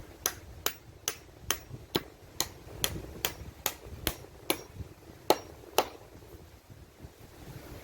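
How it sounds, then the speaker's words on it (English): A nail is hammered into a wooden handrail, about fifteen sharp, evenly spaced hammer blows ringing out one after another over outdoor wind noise. "I want to put a nail in here, an extra nail, make it extra secure"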